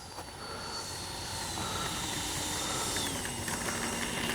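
A Freewing 80mm T-33 Shooting Star RC jet flies with a steady, high-pitched electric ducted-fan whine that builds slightly over a few seconds. Broad hiss sits under a thin tonal whistle, with no talking.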